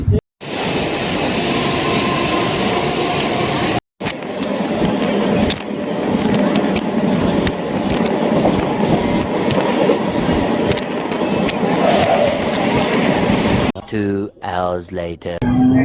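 A train rumbles along steadily with rattling wheels and clatter for most of the stretch, briefly cutting out, then a voice speaks near the end.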